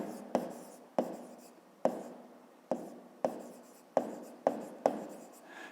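Pen writing on paper during a 5th-grade maths lesson, with eight or so crisp taps or strokes at a steady pace, close and quiet, each followed by a soft scratching trail.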